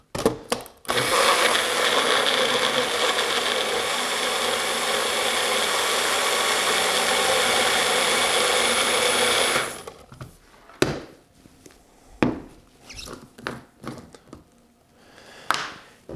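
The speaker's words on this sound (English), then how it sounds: "So I got my blender thing." Blender whirring through a smoothie of pineapple, orange juice, yogurt, banana and protein powder: a loud, steady motor roar for about nine seconds that then cuts off, followed by faint clattering handling sounds.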